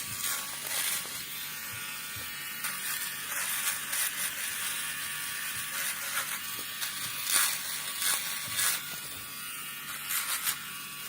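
A Remington fabric shaver buzzes steadily as it runs over a suede shoe, a close, continuous motor whir with brief scratchy bursts as the blades pass across the nap.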